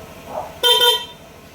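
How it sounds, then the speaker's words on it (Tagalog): A Honda Click V3 motorcycle horn beeps once, close and loud, a short electronic steady harmonic tone lasting under half a second. "So ngayon, ito yung busina."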